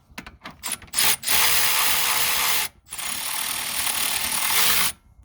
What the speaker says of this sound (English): I'm going nice and slow because it is a power tool and I don't want to pinch it.